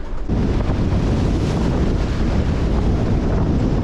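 Sailboat caught in a storm, roaring gusts buffeting close and loud, with waves surging and crashing in a continuous heavy wash, no voices.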